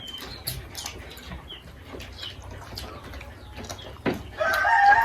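Scattered short clucks from chickens over a low background hum, with a louder, sharper bird call near the end.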